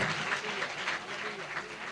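Worshippers clap vigorously during a Hindi-language church service, making a dense, continuous wash of applause throughout the short stretch, with voices mixed in beneath it.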